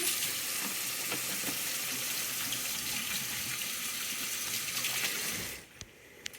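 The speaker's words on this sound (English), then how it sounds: "we're going to go ahead and wash my hands" Tap water runs steadily in a home kitchen while hands are washed beneath it, a close, continuous hiss and splash that cuts off near the end, with no talking.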